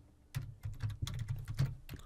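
Quick bursts of keystrokes on a computer keyboard as a web address is entered, close and crisp, in an irregular typing rhythm over a quiet room.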